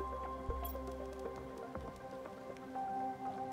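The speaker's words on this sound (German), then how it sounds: "Es regnet." Steady rainfall in the Planet Crafter video game, a continuous wash of pattering drops with occasional sharper drips, even and unbroken throughout, with no talking over it.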